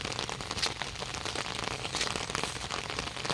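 Steady rain hisses across a surface in rural fields of Ubon Ratchathani, Thailand, a dense, even patter with a few louder crackling drops, close and continuous throughout.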